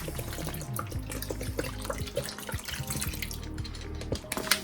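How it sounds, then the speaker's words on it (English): Bottled water splashes and pours steadily into a pot for beef and vegetable soup, a continuous liquid rush with small clinks and drips, close by. "I got some bottled water. Put that in."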